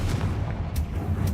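A Confringo or Bombarda spell explosion in the video game Hogwarts Legacy: a sustained, loud, low booming rumble with a couple of brief bursts riding on top, no talking.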